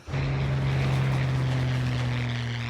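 A propeller airplane drones steadily through a long solo transatlantic flight, its engine hum continuous, loud and close, with a low, unchanging pitch that barely wavers from start to end.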